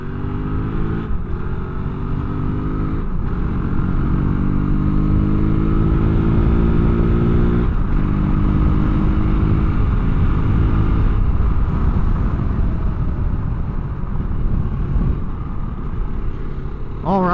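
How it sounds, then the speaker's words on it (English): A street-legal Kove 450 Rally adventure motorcycle being ridden, its single-cylinder engine droning close and steady with rising and falling pitch as it accelerates, under constant wind rush, with no talking. "first ride on a Kove 450, fully 50 state street legal Kove 450 Rally."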